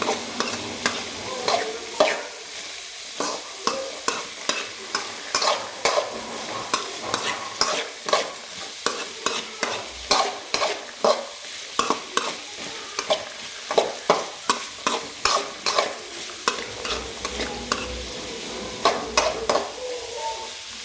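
A spoon stirs carrot fry in a pan with rhythmic scraping strokes over a steady sizzle, repeated close-up clinks and scrapes running throughout.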